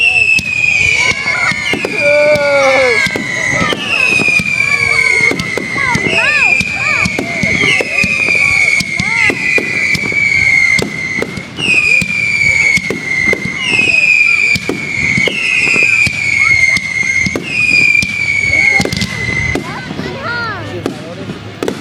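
A fireworks show with a continuous barrage of sharp bangs and crackles, whistling rockets rising again and again, loud and close, while spectators talk and cheer throughout.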